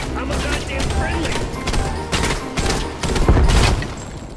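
Rapid bursts of video game gunfire crackle and thud through a busy firefight, with the heaviest volleys building toward the end, while voices talk over the action.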